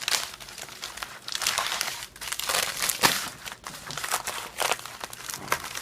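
An RC parts package being torn open by its easy-open strip, close crinkling and crackling of plastic wrap in irregular bursts with sharper tearing snaps near the middle, no talking.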